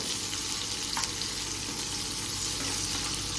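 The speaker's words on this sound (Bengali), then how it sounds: "ঢেলে দিয়ে এবার এটাকে ভালো করে সটে করে নিতে হবে।" Food sautéing in a pan during a home lunch cook, a steady loud sizzle and hiss throughout with faint stirring scrapes, no voices.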